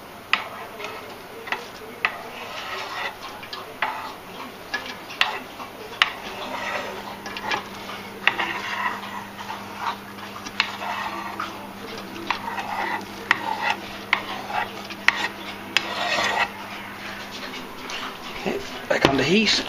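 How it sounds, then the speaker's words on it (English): Leftover turkey meat with gravy gets stirred in a pan, a spoon ticking and scraping in frequent small knocks over faint sizzling while a person talks. "So all this turkey meat now is going to go into that, and we're going to stir it, heat it through."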